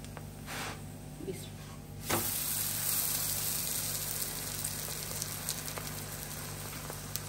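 Butter-brushed mongra paratha sizzles steadily while cooking at a village breakfast, a continuous close crackle and hiss that grows a little louder partway through and holds without pause.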